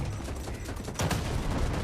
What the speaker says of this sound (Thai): เพื่อนยิงไปตรงนี้แสดงว่ามีศัตรูอยู่ใกล้